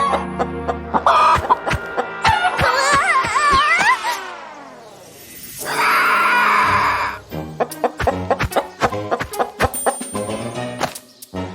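Farmyard chickens cluck and cackle loudly in bursts, with a longer squawking call in the middle and a run of sharp pecking-like clicks toward the end.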